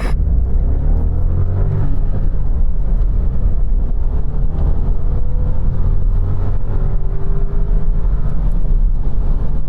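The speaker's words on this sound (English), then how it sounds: "I'm going to launch it from 0 to 60." A 1-litre three-cylinder Audi A1 launched from standstill to 60, a loud steady engine drone and road rumble heard from inside the car, rising gradually in pitch as it gathers speed, with no talking.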